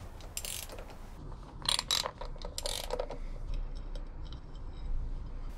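Tools working on the derby cover of a Harley-Davidson M8 Softail: quick ratcheting clicks and metallic rasps in short bursts, close by, then quieter handling noises with no talk.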